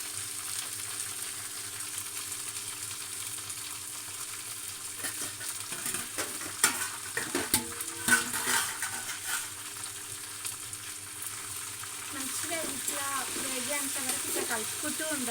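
Sanangi leaves sizzle steadily in a pan with peanuts and chillies for a tomato chutney. A spoon scrapes and clinks against the pan in a few sharp bursts midway through the frying.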